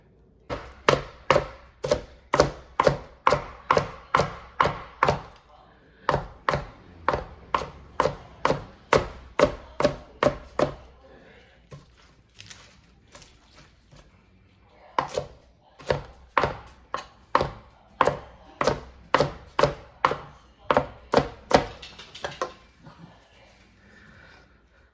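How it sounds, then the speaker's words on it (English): A knife chops lettuce into thin strips on a cutting board, giving quick, crisp, evenly spaced taps in several long runs with short pauses between them, close and clear. "I've cut my lettuce up, and I saved a little bit of that back, and I cut it just one direction so it came out in thin strips"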